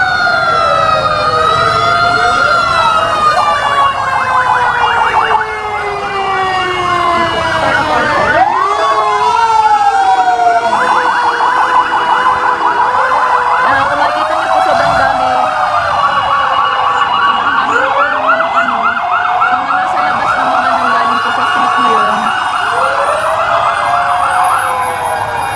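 Fire truck sirens wail loudly and continuously at a fire in Barangay Poblacion, Mandaluyong City, several overlapping rising and falling tones blending with a steady mechanical yelp, close and dominant with no talk.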